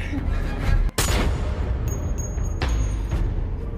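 Gunfire in the action film Wrath of Man: sharp, loud gunshots cracking out over a dense rumbling scene, with a few more shots following.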